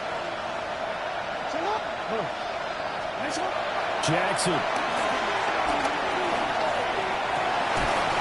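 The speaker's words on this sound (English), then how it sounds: "The Arrowhead crowd in full roar" A dense, sustained roar from the Arrowhead stadium crowd in a Chiefs football game broadcast fills the scene steadily and loudly, with a commentator's voice over it and scattered sharp thuds within the din.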